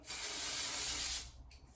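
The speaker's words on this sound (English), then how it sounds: "So I'm gonna go in with the heat protectant spray." Heat protectant spray hisses onto hair in one continuous close burst lasting over a second, followed by a few faint rustles as it ends.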